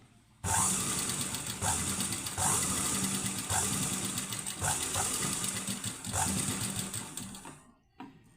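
Sewing machine stitching the inner seam of a leaf neck blouse, running in steady bursts with brief pauses between stitch runs, close and loud, then stopping near the end.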